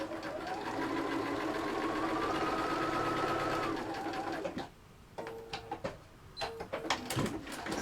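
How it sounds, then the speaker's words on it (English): A sewing machine stitching a quilt block, a steady close whirring run of about four seconds, followed by quieter handling clicks and brief stops. "I'm going to sew that in place."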